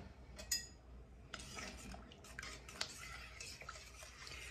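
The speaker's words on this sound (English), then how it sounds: "And I'm going to stir those together." A spoon stirring dried spices together in a small bowl for homemade pizza sauce, soft scraping with a few light clinks, close and quiet.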